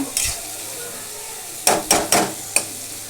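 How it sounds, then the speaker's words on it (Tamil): Egg tomato masala frying on high flame is stirred in a pan, a low sizzle under a few sharp scraping clacks of the utensil against the metal, close and loud. "நல்லா ஹை ஃப்ளேமில் வச்சு எல்லாத்தையும் நல்லா மிக்ஸ் பண்ணிங்கன்னா அந்த மசாலா வந்து நல்லா முட்டையோடு நல்லா மிக்ஸ் ஆகும்"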